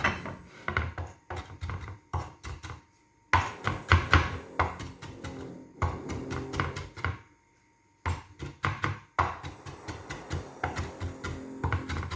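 A knife chops fresh parsley on a cutting board, sharp rapid taps in quick bursts separated by short pauses, close and fairly clear with no talking.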